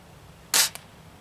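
A single sharp crack from a 1979 Webley & Scott Vulcan .177 air rifle, close and loud, followed by a brief faint mechanical click, with quiet surroundings before and after.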